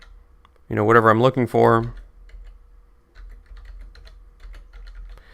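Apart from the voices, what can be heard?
typing a search on a computer keyboard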